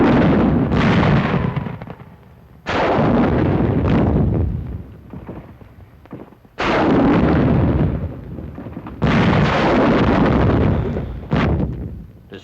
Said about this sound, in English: Bazookas fire on Jap tunnel positions at hill number 1.